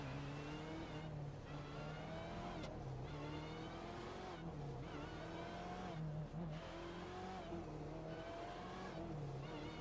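BMW race cars in the iRacing video game, several engines droning and revving together with rising and falling pitch as they shift gears, steady and continuous with brief tire noises.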